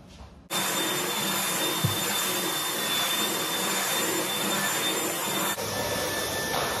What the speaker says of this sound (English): I'm gonna vacuum it first.